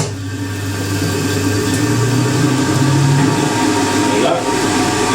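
A loud, steady whirring hum with a breathy hiss runs throughout as a 1980s Ariston 3000 rpm spin dryer spins up to speed.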